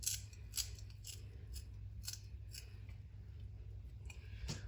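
Fresh coriander leaves being cut in a kitchen with a series of crisp, close snips spaced irregularly over a quiet background.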